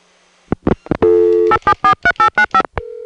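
A payphone line plays a short series of clicks and tones, then a steady dial tone, then a rapid run of dialing beeps and a final tone.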